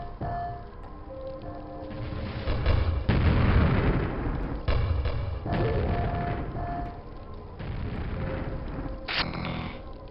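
Gunfire and booming blasts in the shooter Gravelord, dense and continuous across the whole stretch, with louder bursts layered over a steady roar of action.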